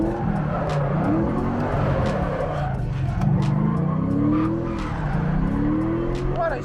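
A car drifts with extra countersteer, its tires skidding and squealing over a rising and falling engine note, with repeated sweeping revs and scrubbing screeches close by, and a voice speaking briefly over the noise.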